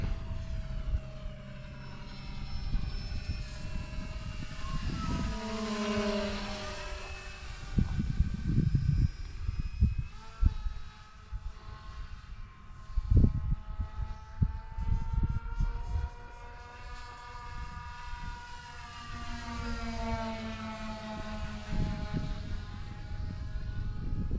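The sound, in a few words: balsa wood model airplane flying at half throttle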